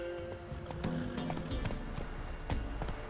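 Roach, a horse in The Witcher video game, trots with quick, steady clip-clop hoofbeats close by, layered over tonal game music.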